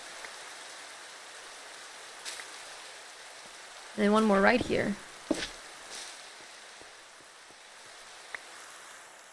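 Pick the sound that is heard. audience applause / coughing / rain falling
rain falling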